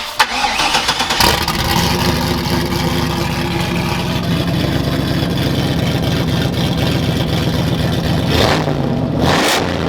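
A Ford Mustang Fox body with a new custom exhaust cranks and fires up, then settles into a loud, rough, rumbling idle with throaty exhaust, close by and continuous.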